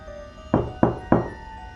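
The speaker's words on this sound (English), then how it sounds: "Then, 3 knocks echoed from the front door" Three evenly spaced, heavy knocks land on a front door, loud and close, each a dull thud with a short ring over a quiet background hum.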